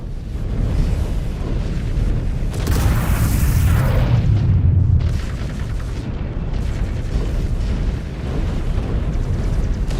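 A mech's reactor blows in Mechwarrior 5: Clans, a loud sustained roaring blast with a rising burst mid-way, then continuous rumbling debris and combat noise with no talking.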